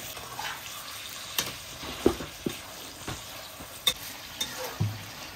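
Chicken frying with salt in a karahi gives a low background sizzle, punctuated by scattered sharp clinks and scrapes of a utensil stirring against the metal pan.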